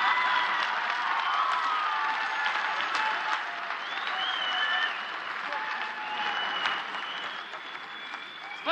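Sustained audience applause at a televised KVN Major League comedy contest, dense and steady throughout, with scattered whistles and shouts rising from the crowd.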